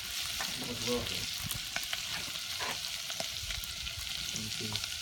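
Liquid boils hard while grilled pesto wings cook, giving a steady bubbling sizzle with scattered pops, close and moderately loud with no voices.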